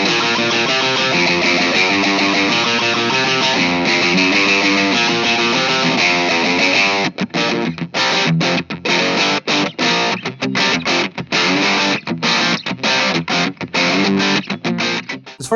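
An electric guitar plays a Persona lead line through a heavily distorted tone on the bridge pickup. The notes are loud and sustained at first, then turn into rapid staccato phrases with short gaps in the second half.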